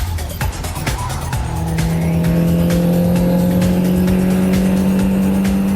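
Mini Cooper race car engine roaring loud and close at steady high revs during a race spin-out, with brief tyre noise early, then a sustained droning engine note.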